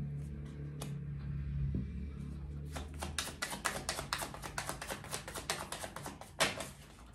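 Gypsy fortune-telling cards are shuffled and laid out, starting with a soft hum and handling, then a rapid run of crisp riffling taps and slaps close by, with no voices.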